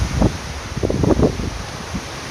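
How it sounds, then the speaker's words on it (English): Wind rushes through trees in a couple of swelling gusts, leaves rustling softly over low buffeting noise, with no voices. "Nice windy day."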